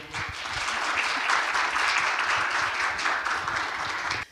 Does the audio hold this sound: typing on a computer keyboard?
no